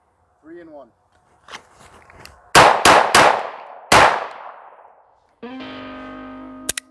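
Several loud, sharp gunshots from a training firearm fire in quick succession, each cracking with a decaying echo, preceded by faint clicks and followed by metallic handling sounds of the gun and magazine.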